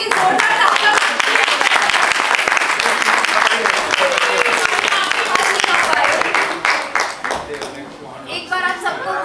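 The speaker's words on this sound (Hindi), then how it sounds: "सत्य मैम के लिए जोरदार तालियां।" Loud applause from an audience at a school Independence Day celebration, sustained clapping from many hands that thins into scattered claps toward the end.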